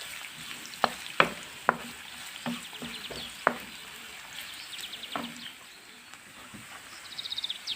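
Onion and garlic frying in hot oil in a pan while being stirred: a quiet, steady sizzle broken by several sharp clicks of the utensil against the pan, with a brief chirpy flutter near the end.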